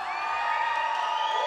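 A crowd at a climbing competition final cheers and whoops, a bright sustained roar of many voices holding steady through the moment.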